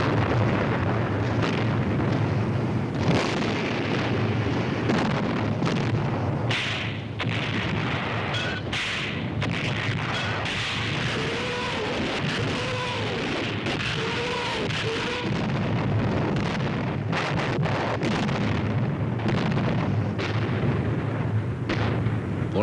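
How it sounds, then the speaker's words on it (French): Artillery bombardment during the siege of Bastogne, heard as a continuous loud, dense roar of blasts and rumbling impacts with no pauses. "ce Noël, c'est le pilonnage d'artillerie le plus terrible du siège"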